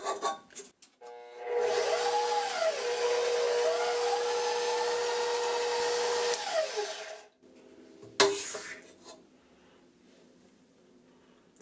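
A KitchenAid 6 Qt Professional 600 stand mixer creams white and brown sugar, a steady whirring motor hum with a rising and falling pitch lasting about five seconds, then stopping, followed by a brief knock.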